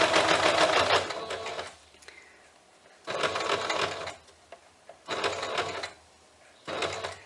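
A sewing machine runs in three or four bursts of rapid stitching along a purse seam, with reverse stitching, each burst loud and close, separated by short quiet pauses.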